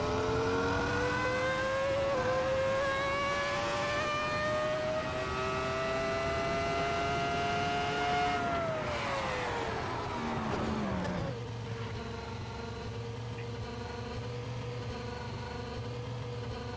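A Ferrari engine in a Goodwood Festival of Speed VR racing game revs high and holds a rising note, then drops sharply to a lower, steadier drone, loud and alone.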